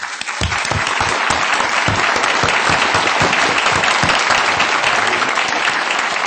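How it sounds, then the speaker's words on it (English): A conference audience breaks into sustained applause to welcome a guest, dense loud clapping that rises quickly and holds steady throughout with no talk over it. "Let's give a warm round of applause"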